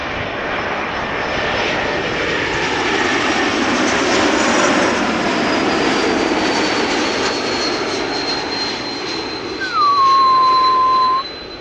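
A jet airliner passes by at Amsterdam Schiphol, its engines a loud, steady roar that swells and fades, with a rising whine near the end.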